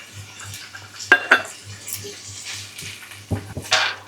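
Strips of orange peel sauté with rock candy and saffron in a pan, heard as soft frying under intermittent metallic clanks of a utensil against the pan, close and uneven.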